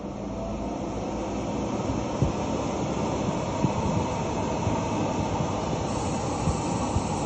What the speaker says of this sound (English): We hear the ignition and the flame will start, the temperature will start climbing.